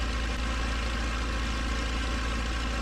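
Small general aviation airplane engine running during an ignition system test, a steady, even drone holding at a constant pitch and loudness throughout, with no talking over it.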